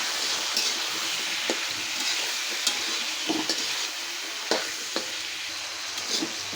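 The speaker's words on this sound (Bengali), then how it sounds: "আমি আলুটা আগে একটু ভাজা নেব।" Potato pieces fry in oil with turmeric, salt and whole green chillies, a constant hissing sizzle punctuated by sharp spatula clicks and scrapes against the pan, no talking.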